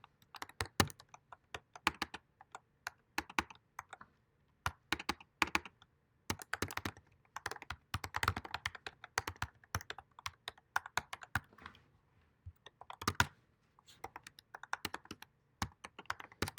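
Someone types on a computer keyboard in quick irregular bursts of clicks and key presses with brief pauses between runs, soft and fairly close in a quiet room, no talking.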